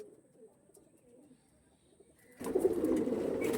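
Flying pigeons, including a blue-barred hen, coo softly in low, repeated murmurs, then a sudden burst of louder, rustling, wing-like noise takes over for the last second or so.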